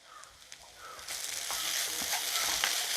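Curry leaves dropped into a pan of mussel fry, a quiet hiss that swells into a steady close sizzle after about a second, with faint stirring clicks and no talking.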